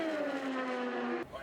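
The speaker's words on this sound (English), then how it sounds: "Just seeing the cars coming down at these 200+ mile-an-hour speeds" A race car screams past at over 200 mph on the Indianapolis track, a loud, sustained high-pitched engine whine sliding down in pitch as it passes, ending abruptly.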